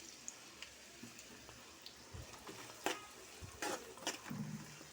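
Onions fry in plenty of oil for a chicken, egg and drumstick curry, with a steady sizzle broken by clattering stirs of a spoon against the pan, close and moderately loud, no talking.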